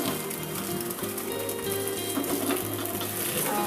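Egg paniyaram batter cooks over a low flame in a pan, giving a steady, soft sizzle and crackle that stays even and fairly quiet throughout, with no talk.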